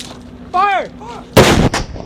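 After a shouted order, an M777 light towed 155mm howitzer lets off one heavy, close blast that cracks and rolls for a fraction of a second before fading.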